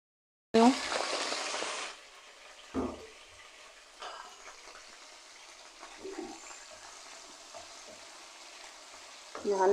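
Garlic ginger paste hits a hot pan with a loud sizzle that fades to a steady quiet fry, broken by occasional stirring scrapes and a second burst of sizzling at the end.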